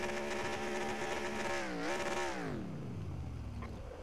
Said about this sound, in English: Oh, I believe his engine just stalled. It's revving, but no movement.